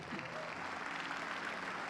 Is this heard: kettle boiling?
no